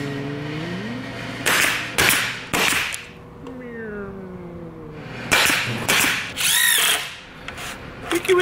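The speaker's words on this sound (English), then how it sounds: "I'm gonna fire up the old table saw, cut some wood and glue it together" A table saw cuts wood in a home workshop, sounding as several loud, abrupt bursts of whining, rasping cutting separated by short pauses.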